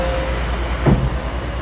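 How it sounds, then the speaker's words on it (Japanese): A train pulling into Etchu-Yatsuo station gives a steady low rumble and rolling rail noise, heard from inside the carriage with a brief brake squeal. "さあ、列車は越中八尾駅に到着です。"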